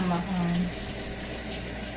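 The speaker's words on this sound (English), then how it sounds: "I'm gonna wash these dishes right quick as well." Water runs from a tap into a sink in a steady stream while dishes are washed, close by, with brief faint clinks near the start.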